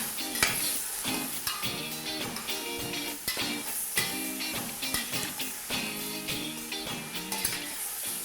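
Shrimp and bacon frying in a pan, a loud continuous sizzle broken by frequent stirring and scraping strokes, close and with no voices.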